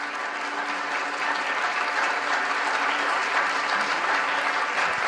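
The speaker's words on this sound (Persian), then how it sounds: "خواهش میکنم گرم این هنرمند عزیز رو تشویق بکنم." A concert audience at a santur performance claps warmly and steadily, a dense, even wash of applause from a full hall that lasts throughout.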